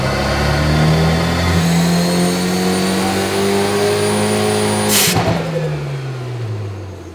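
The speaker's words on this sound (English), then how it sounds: "Ready to start this thing up and see what it does on the dyno." A turbocharged Hyundai hot hatch built by Bisimoto for SEMA 2019 runs on a chassis dyno, its engine droning loud and close as revs climb and hold. A brief hiss near the end is followed by revs falling away.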